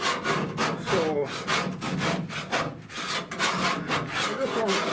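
A hand scraper rasps repeatedly across a car roof, stripping old material ahead of new upholstery, in a steady rhythm of close, gritty strokes with brief pauses between them.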